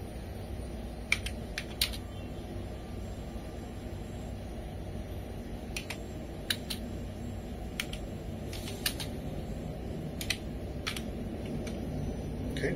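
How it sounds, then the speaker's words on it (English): A command is typed on a computer keyboard during a graphics card repair, producing sparse clicky keystrokes in small clusters over a steady fan-like hum. "So I'm just typing the command."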